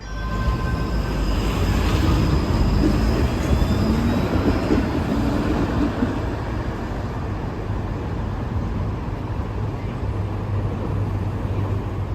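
A Flexity Outlook tram in Toronto rolls along steadily, a continuous low rumble with faint high squealing tones early on, no talking.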